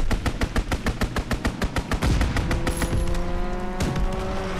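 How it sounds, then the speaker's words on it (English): Fighter aircraft strafing run in Call of Duty: WWII, a fast rhythmic burst of loud machine-gun fire for about two seconds, then rumbling booms and a roaring engine pass with a whistling tone. "Call for a strafing run."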